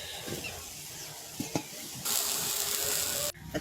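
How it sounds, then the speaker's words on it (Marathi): Green chillies roast in a pan with a soft sizzle and hiss, punctuated by a couple of sharp clacks of stirring, then a louder burst of sizzling that runs steadily before cutting off. "आता मिरची भाजून घेते."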